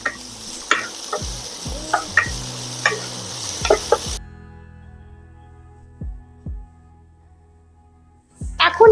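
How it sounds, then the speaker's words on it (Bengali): Spices with tomato and ginger paste frying over low heat, a soft sizzle under repeated spoon clacks against the pan, then quieter, sparser stirring knocks after the sizzle drops away. "এখন মশলা কম আঁচে ভাজবো, জাস্ট একটু ঘুরিয়ে নিতে হবে।"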